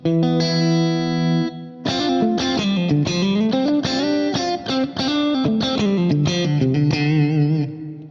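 A James Tyler electric guitar, middle and neck pickups in parallel, plays a held chord, then a busy run of picked notes and chords, sounding bright and slightly thin with a bit of effect; no voices.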